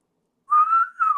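A single person whistles a short sustained tune, two clear close phrases separated by a brief dip, with no talking.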